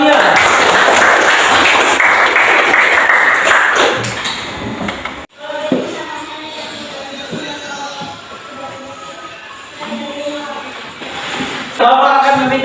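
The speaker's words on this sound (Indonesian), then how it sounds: "tepuk tangan untuk kalian." Enthusiastic applause from a classroom of students fills the room, a dense crackle of clapping that fades after several seconds into quieter room chatter and voices.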